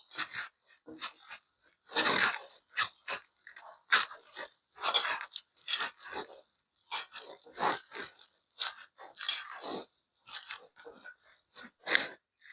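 Cabbage vada batter being mixed by hand with cumin, salt and chili powder: close, wet crunching and squelching bursts in an irregular rhythm, with no talking.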